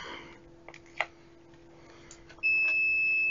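A pen-type multimeter in continuity mode gives a steady, piercing electronic beep that starts abruptly near the end and holds, after a few quiet clicks and taps of probes being placed.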